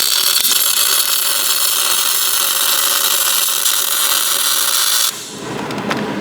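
Welding on the spider gears of a Dana 30 differential: a steady, loud crackling hiss of the arc runs for about five seconds, then cuts off abruptly, leaving quieter ambient noise.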